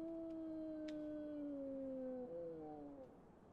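Dogs howling in the survival game HumanitZ: two or three long, sustained howls, clear and fairly near, with pitch gliding down and overlapping toward the end before fading, no talk.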